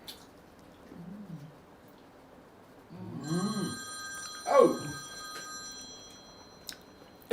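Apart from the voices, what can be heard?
telephone ringing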